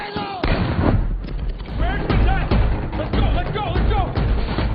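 Rapid bursts of gunfire in a film shootout between robbers and FBI agents, loud repeated cracks and booms over a dense background of shouting voices.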